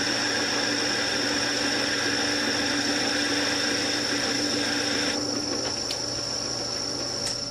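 Metal lathe cutting a thread at 20 threads per inch, working away from the chuck: a continuous loud machine whine with steady tonal hum and hiss throughout, shifting slightly in tone partway through, without speech.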